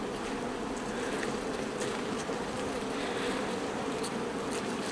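Steady, dense buzzing of many honey bees close by at a hive during a honey harvest, a continuous drone with no talking.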